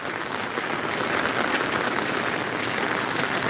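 Heavy pouring rain during a monsoon walk through countryside near a flooded stream, a dense, steady hiss of drops without a break, close and loud, with no voices.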